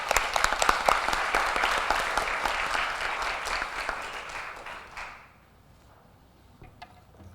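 A church congregation applauds during an anniversary revival service, a dense, steady round of clapping that carries on for about five seconds and then stops, leaving only quiet room tone.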